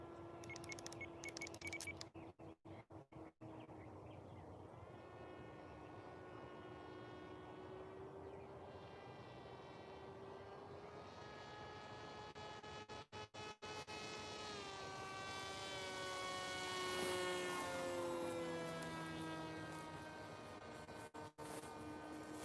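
A new model plane on its first flight drones overhead, its steady tonal whine rising and falling in pitch as it circles near and far with no talk.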